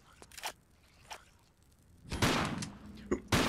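A grenade explodes in the PC game Tomb Raider IV: The Last Revelation, a loud, broad burst with a rumbling tail, preceded by scattered sharp in-game sounds and followed by another impact, while a voice talks faintly.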